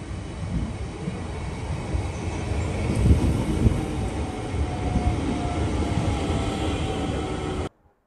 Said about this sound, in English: And here approaches my train to take me into Dublin.